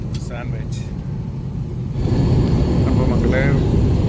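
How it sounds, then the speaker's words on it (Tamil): Steady, loud low roar inside an airliner cabin during a flight at high altitude, a constant broadband drone that swells slightly partway through, with faint voices in the background. "ஃப்ளைட் பார்த்திங்கன்னா பயங்கர ஹைட்டில் போயிட்டுருக்கு"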